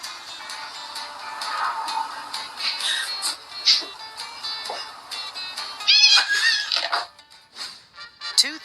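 A cat meows a few times in a short, high, wavering series near the middle and end of the clip, heard over a bright, busy background of game sounds.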